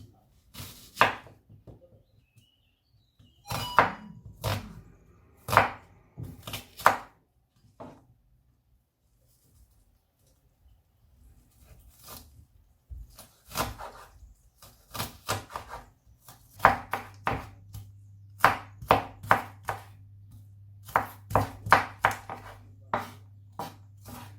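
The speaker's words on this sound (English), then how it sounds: "Let's chop our onions." Onions being chopped with a knife on a board for coleslaw: bursts of sharp, rapid knife taps in uneven clusters separated by quiet pauses, close and clear with no talking.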